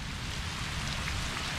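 Heavy rain pours steadily during a lightning storm at an Algonquin campsite, a dense, continuous hiss with no gaps and no voices.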